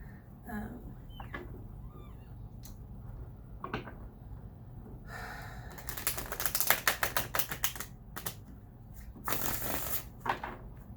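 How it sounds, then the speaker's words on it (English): Tarot cards, a Cortera deck, being shuffled up close, a rapid flurry of crisp riffling taps followed by further bursts of shuffling, with brief handling noises before. "It's a little bit easier to shuffle the Cortera"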